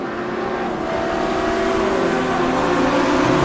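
Race cars in a sim racing game drone past in a steady, loud engine roar with rising tonal whine as a pack of cars accelerates together.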